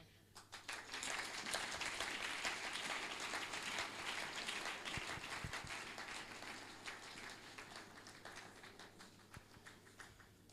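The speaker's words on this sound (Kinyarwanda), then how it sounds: "Reka nsabe abarevera bose bo muri uyu muhana bahaguruke mubakomera amashi." A church congregation at a cultural gathering in Mbarara bursts into sustained applause, dense clapping from many hands that builds quickly and carries on steadily.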